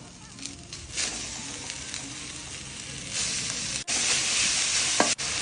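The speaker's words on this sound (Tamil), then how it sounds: "இதோட இந்த முள்ளங்கியும் போட்டு வதக்கிக்கலாம்" Radish frying in oil with shallots, curry leaves and garlic for a radish chutney, making a close, steady sizzle that swells louder midway, with stirring scrapes and a couple of brief breaks.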